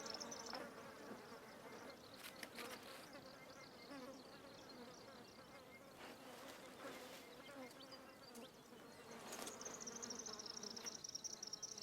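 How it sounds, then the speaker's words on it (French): Flies buzz steadily near the microphone in the hot, dusty Australian outback, a continuous droning hum that rises and falls as they move around, with no talking. "La virulence des mouches redouble."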